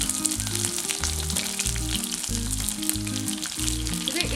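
Chicken pieces double-frying in hot oil give a loud, dense, continuous sizzle and crackle, close up, with a low musical background running underneath and no talking.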